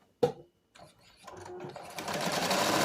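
A home sewing machine runs an edge stitch along fabric, starting with a few clicks and stops, then building into a steady, close mechanical whir that grows louder toward the end.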